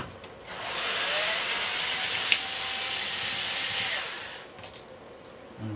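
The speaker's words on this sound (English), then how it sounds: "So I'll use my electric screwdriver just to undo that." An electric screwdriver whirs steadily for about three seconds while undoing a screw on the motor of a Hoover Senior 652A vacuum cleaner, loud and close, starting and stopping cleanly with no talk over it.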